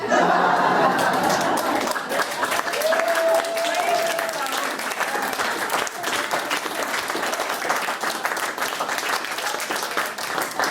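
A crowd claps steadily and loudly throughout, a dense wash of applause with some scattered voices and laughter mixed in.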